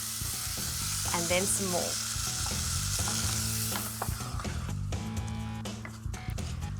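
A spoon works through thickening curry sauce in a pan for chicken katsu, giving steady scraping and stirring with a soft sizzle and thick, wet squelches, while a cook speaks a few words over it.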